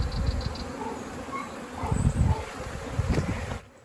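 Native honeybees buzz in close, fluctuating hums during a hive rescue in Mallorca, with wind noise on the microphone and bursts of louder buzzing near the middle.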